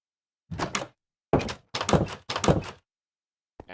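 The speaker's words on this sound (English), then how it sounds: "I just broke the door" Wooden door being broken in Minecraft, heard as four separate dull, thudding knocks spaced through the clip, with a short sound starting near the end.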